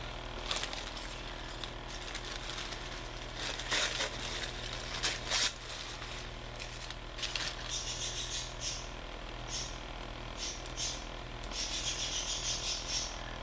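Bursts of shrill, buzzy parakeet chirping and chatter come and go over a steady low hum, growing busier toward the end.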